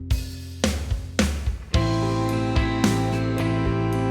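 Drum hits from a Premier Rock kit in a software drum plugin, a few loud strikes with ringing cymbal and tonal sustain layered over a steady mix, no voices.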